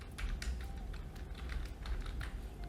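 Fingers type on a computer keyboard in quick, irregular bursts of close, crisp clicks and key taps for a few seconds, with no talking.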